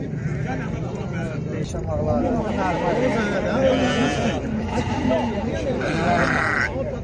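Sheep and goats bleat and grunt at a busy outdoor livestock bazaar in Mashtaga, several wavering calls close by overlapping one another, with chatter and people talking throughout.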